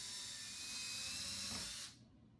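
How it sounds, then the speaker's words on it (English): A power drill bores 1/8-inch pilot holes in a door frame for mounting an LCN 1460 door closer, giving a steady, close high whine that holds and then cuts off abruptly near the end. "Drill 1/8-inch pilot holes at all locations."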